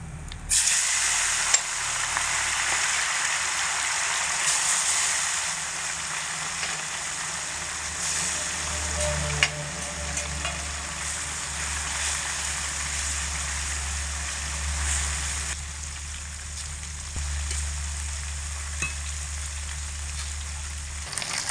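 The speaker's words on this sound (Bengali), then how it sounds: "এবার আমি উনানটা ধরিয়ে মাছগুলোকে খুব ভালো করে লাল লাল করে ভেজে নেব।" Turmeric-and-salt-coated fish frying in a pan, a loud continuous hissing sizzle lasting throughout with a steady low hum beneath and a few small knocks, no talk.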